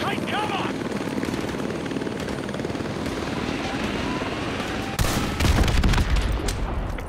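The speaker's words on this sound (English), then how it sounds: "Clear the helicopter. Enemy helo!" An enemy helicopter in Call of Duty Modern Warfare 2 Remastered, a constant loud rotor drone under bursts of gunfire and shouted voices, growing heavier and louder in the last seconds.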